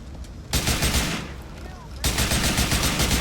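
Gunfire in Grand Theft Auto IV, two loud sustained bursts of rapid automatic shots, close and harsh, the second starting after a short lull, with a voice faintly underneath.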